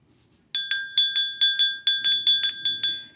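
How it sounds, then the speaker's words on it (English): A small bell is struck about fourteen times in quick succession, each bright ringing tone decaying briefly before the next strike, clear and close against near silence. "We're going to ring this bell."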